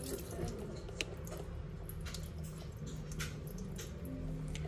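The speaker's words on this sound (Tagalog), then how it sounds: "Drain natin yan." Water from a pot of boiled chicken gizzards pours and splashes into a kitchen sink, a steady running gush with a few brief drips and clatters, close and moderately loud.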